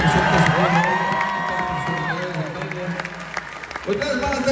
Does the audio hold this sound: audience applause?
yes